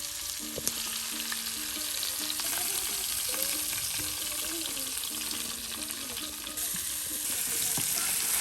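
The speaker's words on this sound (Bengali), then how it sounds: "এই যে এর জন্য কিন্তু নানি মাছ ভাজি করতেছে।" Pieces of rui fish fry in a pan of oil with a dense, continuous sizzle that holds at an even level throughout, while the pieces are turned.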